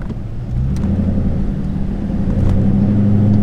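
An American Cadillac car engine rumbles low and steady, then swells into a deeper, louder rev that holds, heard up close with no talking.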